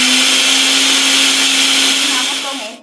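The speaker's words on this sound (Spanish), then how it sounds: "Vamos a pasar por aquí por la licuadora y vamos a batir." A blender loudly whirs through salad dressing with garlic, onion and chili pepper in a continuous steady roar that winds down at the end, close and alone without talk.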